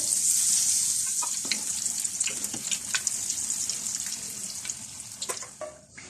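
Laddu peethi fritters frying slowly on low heat, giving a continuous bright hiss of bubbling oil with small pops and occasional utensil scrapes, close by and steady, fading slightly toward the end, with no voices.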